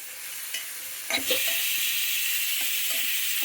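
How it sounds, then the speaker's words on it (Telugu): Tomatoes sizzle and fry in a pan for mutton curry with sorakaya, giving a steady loud hiss broken by a few knocks and scrapes of stirring. "వేగనివ్వాలండి. టమాటాలు బాగా మెత్తబడాలి."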